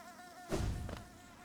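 Worker bees in the Hollow Knight video game give a short, faint buzzing whir that swells briefly and fades, with no talking.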